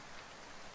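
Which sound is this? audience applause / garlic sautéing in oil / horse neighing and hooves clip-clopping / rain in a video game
rain in a video game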